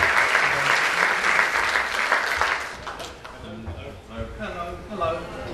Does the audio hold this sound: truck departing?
no